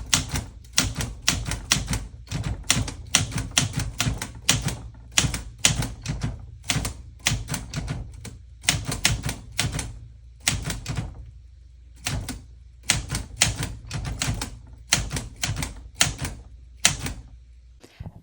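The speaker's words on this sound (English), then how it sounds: "I wanted to use some of the sounds of me typing" Close, brisk typing on a mechanical typewriter, with rapid bursts of sharp key strikes separated by short pauses and the odd carriage thud, loud and steady with no talking.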